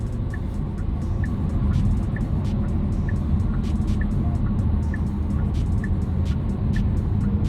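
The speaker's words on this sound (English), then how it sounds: "feather the throttle a little bit, you get a nice little rumble" A 2022 Genesis G70 Launch Edition on the highway under light throttle, its exhaust giving a steady low rumble over continuous road and wind noise inside the cabin, with faint regular ticking throughout and no talking.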